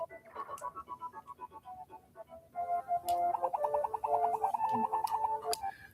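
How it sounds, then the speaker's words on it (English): Crows flying around with bombs in the video game Legend of the Mystical Ninja, heard as a run of chirpy, tonal bird calls and blips over a faint game background, with no voices. "all these crows flying around with their bombs"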